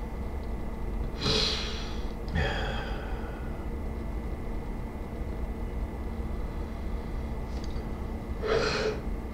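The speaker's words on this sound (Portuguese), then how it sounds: "Respirando." Breathing during a guided meditation: three distinct breaths, two close together early and one near the end, each a soft breathy rush over a steady low background hiss.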